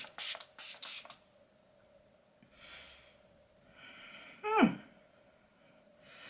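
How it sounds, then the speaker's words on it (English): A facial mist bottle with rose hip, cloudberry and cranberry extract gives a few quick, soft spritzes at the start, followed by quiet breathing and a faint sniff in a still room. "it's quite a gentle mist"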